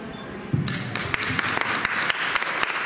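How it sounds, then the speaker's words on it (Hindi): Applause at a municipal hall ceremony handing out housing scheme keys to beneficiaries. Scattered, steady clapping starts after a brief low murmur and continues to the end at moderate loudness. "इधर तालियां बजा दीजिए"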